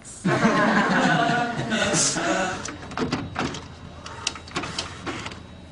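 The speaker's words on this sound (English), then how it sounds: "just printing out ballot papers" A printer runs through a print job of ballot papers, its loud mechanical whirring and feed clatter filling the first seconds before giving way to intermittent clicks, thumps and rustling nearby.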